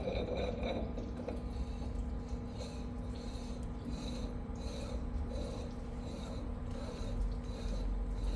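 Threaded parts of a forklift hydraulic cylinder are screwed together, giving repeated scraping, ratcheting metal turns at a close, moderate level with no talk.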